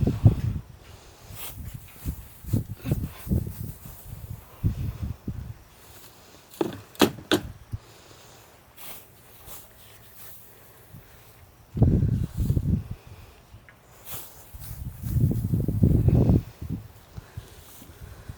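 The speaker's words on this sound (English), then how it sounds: "every time I start doing something, the wind will start blowing" Gusts of outdoor wind buffet the microphone on a farm, coming as loud low rumbling bursts at the start and again near the end, with quieter rustling and small knocks between them.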